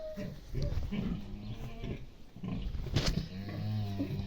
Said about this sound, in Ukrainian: Свині на релаксі.